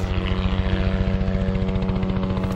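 A helicopter hovers close while lifting a sling load of harvested Christmas trees, its rotor beating in a fast steady chop over a droning engine whine, loud and continuous.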